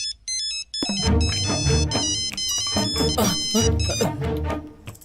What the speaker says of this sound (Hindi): फोन रिंग हो रहा है, रिसीव करना यार